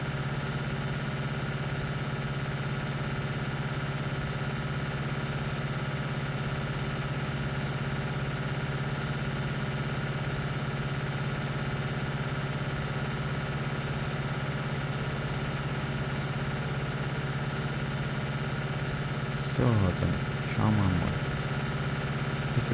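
Tractor engine in Landwirtschafts-Simulator 19, driving a load to storage: a steady, droning idle-like hum that runs unbroken throughout, with a few brief clunks near the end.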